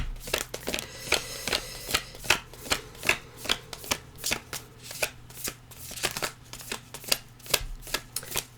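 Tarot cards being shuffled by hand during a reading, a close run of soft riffling and slapping bursts in a steady, uneven rhythm, with no talking over it.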